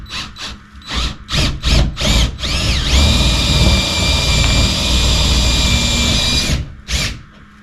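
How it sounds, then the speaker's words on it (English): A power drill revs in short bursts, then bores steadily through a plywood floorboard for several seconds before stopping, loud and close, with one last brief rev. "I just want to go right in here into the corner and drill through the floorboard."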